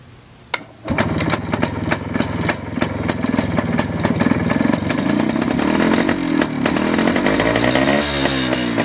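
A 1974 Suzuki TC 185 motorcycle, stored for over fifteen years, cranks and catches on a cold start, then settles into a loud, close, rapid two-stroke idle with rattling clatter and slight revving.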